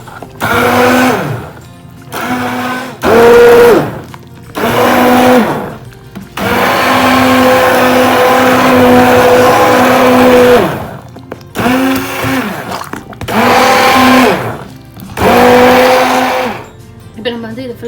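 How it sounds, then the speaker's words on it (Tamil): A hand blender purées leek and potato soup in a series of loud bursts, several short pulses followed by a long continuous run, then more pulses, its motor whine rising and falling between stops. "இது ஹேண்ட் பிளெண்டர் வச்சு மிக்ஸ் பண்ண போகிறேன்"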